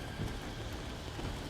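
Rain and thunder of a severe winter storm in Batman: Arkham Origins, a dense steady hiss of rainfall with low rumbling underneath, continuous and loud, no voices.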